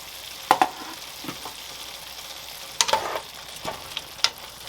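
Green onions and snow peas stir-frying in a pan make a soft continuous sizzle, broken by a few sharp spatula scrapes and clatters. No voices.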